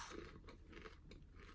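Caramel M&M candy with a crisp shell and puffed caramel crunches between the teeth, a few close, crackly bites and chews in quick succession.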